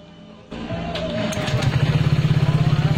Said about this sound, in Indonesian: dari engine cut off-nya saya nyalakan, kemudian saya putuskan aliran mesinnya